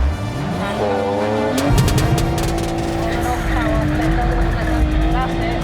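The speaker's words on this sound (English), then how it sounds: "All right, clutch down, nice, revs up nice and strong" A car engine revs up with the clutch down and holds at a high, strained pitch at a car meet, with people talking over the roaring motor.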